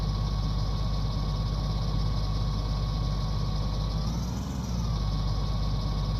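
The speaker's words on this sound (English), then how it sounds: "I did keep hearing a little bit of an engine noise" A vehicle engine idles in Farming Simulator 19, a steady low rumble with a constant hum, close and unchanging throughout, with a brief dip in the drone near the end.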